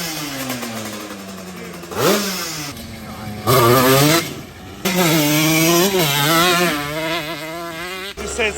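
A Raptor 250 ATV fitted with a Yamaha YZ125 two-stroke engine revs hard toward wide open throttle, its loud buzzing howl climbing and dropping in repeated surges, close by, with no voices over it.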